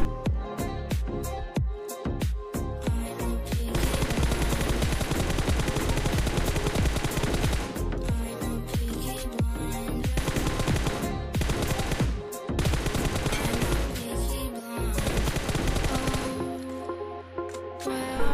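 Dense, loud automatic gunfire from the battle royale game BGMI, rapid repeated bursts firing almost continuously with sharp impacts, a brief lull near the end before shots resume.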